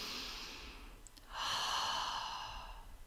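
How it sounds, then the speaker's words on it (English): A person breathes slowly during an energy-healing and chakra session, a soft airy exhale followed after a short pause by a longer, fuller breath, close and quiet with no talk. "Okay, breathing."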